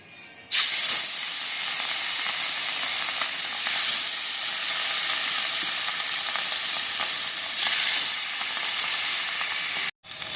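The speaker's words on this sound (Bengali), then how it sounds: "আর এখন আমরা মাছগুলো ভেজে নেওয়ার জন্য দিয়ে দেবো।" Katla fish pieces go into smoking-hot mustard oil to fry for a Bengali kalia. After a quiet start, a loud, dense sizzle erupts close up and holds steady, broken only by a brief cut near the end.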